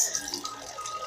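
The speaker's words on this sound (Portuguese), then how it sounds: "Agora eu vou pôr água no arroz" Tap water poured onto rice in a home kitchen, a steady splashing trickle that runs continuously and fairly close for the whole moment, with no talk over it.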